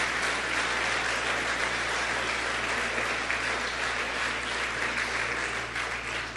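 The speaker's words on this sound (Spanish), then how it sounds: "Alguien puede darle más fuerte ese aplauso a Jesús" A large church congregation applauds loudly and continuously, a dense roar of clapping that holds steady throughout.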